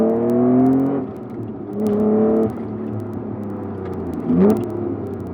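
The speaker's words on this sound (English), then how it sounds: "It's still got that high revving VTEC howl." A Honda VTEC car engine revs up to a high-pitched howl near 8,000 rpm several times, rising and falling as gears change, loud and close.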